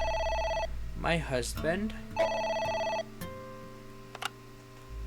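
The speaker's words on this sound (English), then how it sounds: "The phone is ringing." A phone rings in the video game AI: The Somnium Files, a steady electronic ring in two bursts with a voiced line between them, then a short beep; voices speak afterward.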